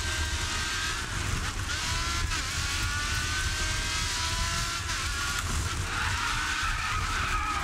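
A race car in the video game GRID 2 skids and spins out, tires squealing in long wavering screeches over a loud, continuous engine roar and road noise that last the whole stretch.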